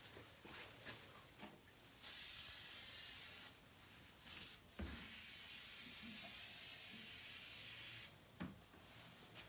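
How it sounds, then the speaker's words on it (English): Adhesive spray hisses from a can onto material over cardboard in bursts: a short hiss, then two longer sustained sprays of a few seconds each, with brief rubbing between. "I'm going to be using the adhesive spray"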